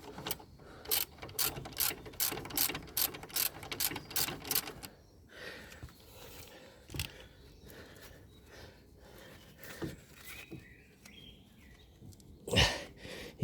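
A ratchet undoes the last brake caliper bolt on a Ford Puma Mk1 front brake, first in a quick run of sharp, evenly spaced clicks, then slower scattered clicks and clunks up close, with a louder knock near the end.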